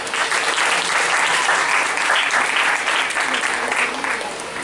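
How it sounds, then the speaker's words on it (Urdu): A church congregation at an Easter service applauds, a steady wash of many hands clapping at close range that carries unbroken throughout. "اپنے لیے تالیاں بجائیں جائیں"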